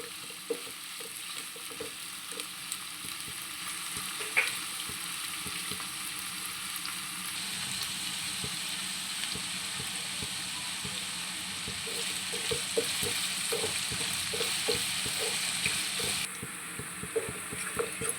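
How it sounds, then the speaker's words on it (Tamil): Onions sizzle in oil in a pan while being stirred for prawn biryani, a steady close frying hiss with scraping and clinks from the spoon throughout. "அதுக்குள்ளேயே வந்து நம்ம கிளறி விட்டுன்னே இருக்கலாம்"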